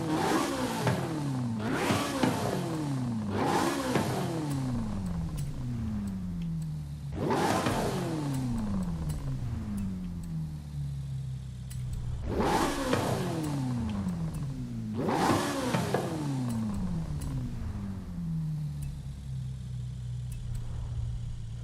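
A naturally aspirated tuned car in Forza Horizon 5 revs repeatedly, each loud, close surge climbing then falling away, with a steady engine drone between bursts and no talk.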